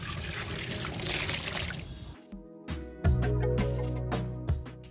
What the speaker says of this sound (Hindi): इस ब्रिक को मैं अंदर रख दूंगी और इसके बाद मैं इसके ऊपर पानी डालूंगी।